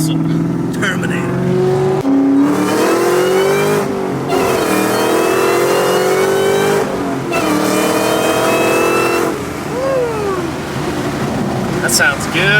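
A 2004 Ford Mustang Terminator Cobra with a four-valve V8 revs repeatedly up close, each loud rise in pitch dropping back before the next blip, with people talking over it.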